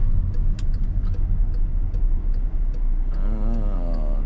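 A car drives through traffic with a steady low engine and road rumble, light ticking like a turn signal over it, and a brief tonal sound near the end.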